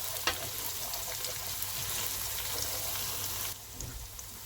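Chilies and curry sizzle in a pan while being stirred, a steady broadband frying hiss running throughout with a faint scrape near the start, cutting back slightly near the end.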